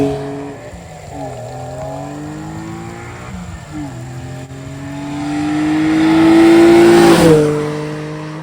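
BMW E46 M3 fitted with an aftermarket exhaust and intake roars past in a flyby, engine note climbing through revs and gear changes, swelling loud as it nears and dropping sharply as it passes.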